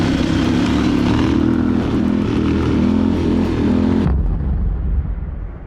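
A low-power trail bike engine of about 40 horsepower runs loud and steady, a continuous droning motor that cuts to a quieter, lower rumble near the end.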